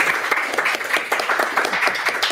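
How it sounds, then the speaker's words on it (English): A short burst of audience applause at the close of a talk, brisk uneven clapping fairly close and loud, rising and falling slightly across its brief span. "One more round of applause"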